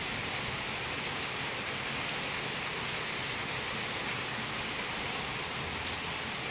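Rain falls steadily outside as a constant, even hiss that stays at one level throughout, with no voices.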